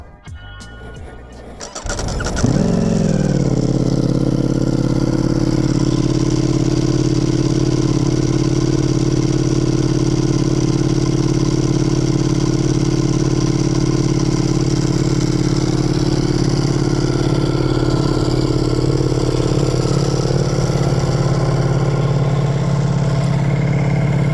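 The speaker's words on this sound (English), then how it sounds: "a cold start of the beautiful Multistrada V4 RS with its full Akrapovic exhaust system" After a brief rustle, a Ducati Multistrada V4 RS with a full Akrapovic exhaust system cold starts, cranking and firing, then settles into a loud, steady, throaty idle that runs on without pause.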